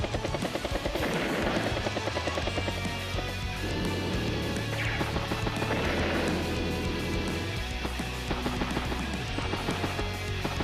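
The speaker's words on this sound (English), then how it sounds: "that battlecopter takes quite a bit of beating there" Battlecopter in combat in the game Advance Wars: Days of Ruin, a loud continuous rotor chop with crashes and impacts layered over game music.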